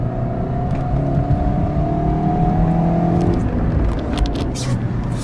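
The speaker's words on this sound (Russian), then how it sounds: "на новых свечах газ в пол" Lada Vesta engine revving under full throttle after a spark plug change, a steady loud engine roar with a rising whine heard from inside the car, and a voice briefly over it.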